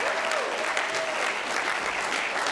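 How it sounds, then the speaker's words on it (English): A crowd at a city's State of the City address gives steady, dense applause for the chief of staff, loud and continuous across the whole moment. "You guys give it a round of applause for Julie Watoko"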